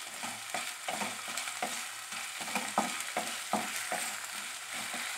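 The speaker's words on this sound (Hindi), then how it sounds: "Ginger garlic paste add माडि। Light fry माडि।" Ginger garlic paste fries lightly in oil in a pan, a steady soft sizzle with intermittent stirring scrapes and taps, fairly quiet and with no talking.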